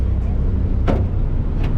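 A car rolls past near Istanbul's Yenikapı ferry terminal, its low steady engine and tyre rumble close and continuous, with a brief sharp knock in the middle and a faint one near the end.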